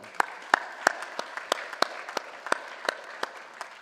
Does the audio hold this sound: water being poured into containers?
no